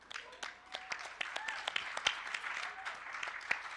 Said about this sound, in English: You got to clap for that.